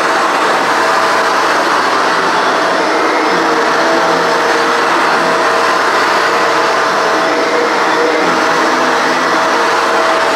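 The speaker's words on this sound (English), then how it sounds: "Just vacuuming the rug makes it look so, so much cleaner." A Shark NV752 vacuum cleaner runs on a rug with a loud, steady motor whine and rushing airflow, close up and unbroken, with slight shifts in tone as the head moves across the pile.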